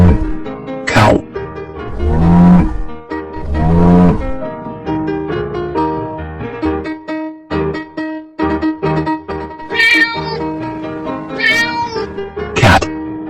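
A cartoon cat meows loudly several times in close succession, the cries long and wavering with a few sharp higher yowls, alone with no talk.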